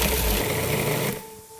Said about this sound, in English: I'm just gonna go ahead and tear it into large chunks right into my food processor.